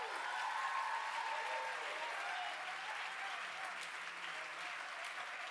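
Audience applause at an evening speaker event, steady sustained clapping from a sizable crowd throughout, fairly even and moderately distant, with no talking over it.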